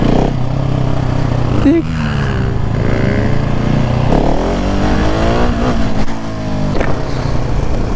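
A motorcycle, such as a Husqvarna 701 or Beta RR 125, rides a wheelie and shifts gears. Its engine drones steadily and close throughout, with rising and falling revs as gears change, while people talk over it.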